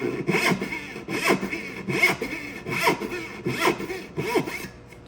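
A hand saw cuts dovetails in wood, its teeth rasping through the board in steady, evenly spaced back-and-forth strokes, about six close, crisp passes with no other sounds.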